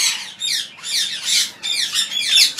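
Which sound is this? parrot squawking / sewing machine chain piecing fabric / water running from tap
parrot squawking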